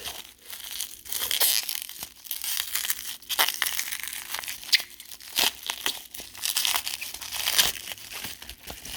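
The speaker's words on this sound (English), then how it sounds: "I'm trying to open this in such a way that I don't break the packaging" Plastic packaging around a parcel of opal is crinkled, peeled and torn open by hand, a loud, close, continuous crackle with sharp tearing bursts throughout.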